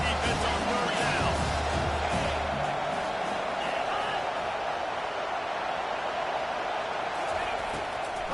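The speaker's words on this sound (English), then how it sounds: "Decibels rising as the crowd gets behind this defense on third down." Stadium crowd in a college football video game roaring for the defense on third down, a dense sustained wash of cheering and noise with commentary voices over it.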